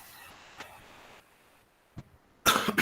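A person with a sore throat gives a short cough, followed by a louder burst of coughing near the mic in an otherwise quiet room.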